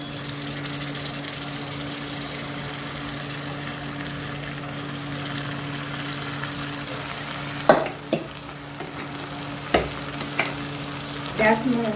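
Ingredients for potato (aloo) biryani sizzle steadily in a pan on medium heat, with a constant frying hiss and a few sharper scraping clinks of stirring toward the end.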